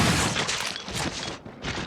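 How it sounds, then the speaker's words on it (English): Shotgun blasts aimed at zombies in the video game Resident Evil Zero, with dense, loud bursts of gunfire and booming crashes that run together over about two seconds. "Switch the shotgun. Fire."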